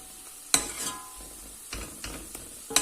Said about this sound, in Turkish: ocağın altını en kısıkta tutuyoruz ve 2-3 dakika boyunca şöyle hamurumuzu güzelce karıştırıyoruz